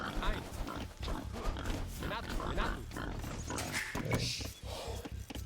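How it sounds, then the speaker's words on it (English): Wild boar grunting in Age of Empires II, low snorting grunts mixed with game sounds, with someone talking over them throughout. "So I need to shoot this boar now"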